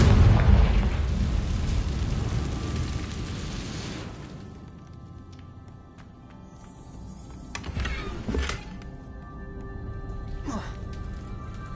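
A Confringo fire spell exploding in Hogwarts Legacy, heard as a loud, broad roaring blast that fades over several seconds, then a few quieter bursts and pops later on, with no talking.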